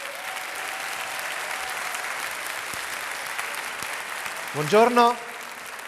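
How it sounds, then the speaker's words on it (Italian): An audience in a hall applauds to welcome visiting secondary-school students from Verona. The applause is a steady, fairly soft spread of clapping, and a brief greeting is spoken near the end. "accogliamoli con un grande applauso"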